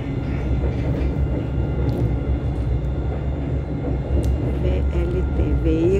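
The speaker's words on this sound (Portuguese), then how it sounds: "VLT, Veículo Leve Sobre Trilhos." A VLT light rail tram runs through central Rio de Janeiro near Cinelândia, its low rumbling rolling on and on amid city street noise, with a rising whine toward the end.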